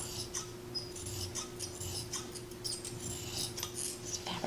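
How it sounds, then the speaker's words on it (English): Scissors snip through slippery fabric in a series of quiet, crisp cuts, with short rhythmic clicks and rustles in a calm room. "This fabric slippery, doesn't want to cut"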